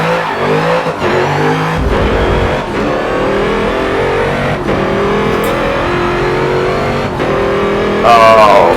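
A Ford race car roars at full throttle through the Mulsanne curve, the loud engine climbing in pitch through several hard gear pulls, close and continuous.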